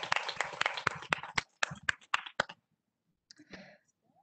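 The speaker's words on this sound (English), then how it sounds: "Oh yes, round of applause." A small group at a school board meeting gives a short, scattered round of hand claps that thins out after a couple of seconds, followed by a few faint isolated claps.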